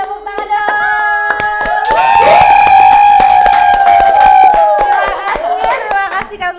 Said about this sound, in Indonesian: Baiklah, tepuk tangan dong.